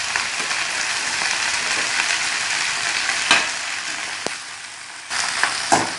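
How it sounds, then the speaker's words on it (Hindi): Okra fries in a pan with a steady, dense sizzle and crackle, close and fairly loud. A few sharp clinks and stirring knocks land near the middle and end. "को अब उलट पुलट करेंगे ताकि नीचे और ऊपर वाली भिंडियां बराबर फ्राई हो सके।"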